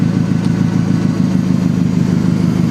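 A forklift engine idles steadily at close range, a continuous low, rumbling drone with a faint mechanical clatter and no voices over it.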